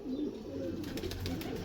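Fancy French flying pigeons coo nearby, a soft, low, rolling burble that repeats steadily, with faint higher rustling in the background.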